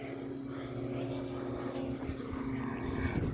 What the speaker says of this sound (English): Oh, and they've got a plane.